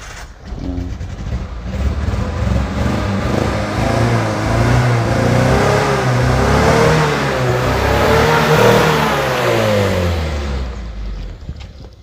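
Engine of a Suzuki Vitara 4x4 SUV running during an engine test, a steady loud idle and rev with shifting pitch swells, heard close for the full stretch with no talk.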